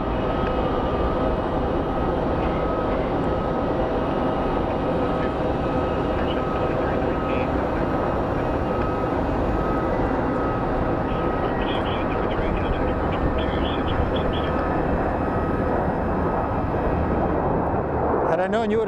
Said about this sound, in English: we have a Delta A321 landing as I tell that story